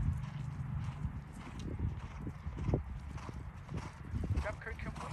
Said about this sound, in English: I love this horse.